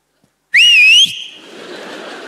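A single loud, piercing whistle with a slight wavering pitch lasts about half a second, then fades into a soft rushing noise.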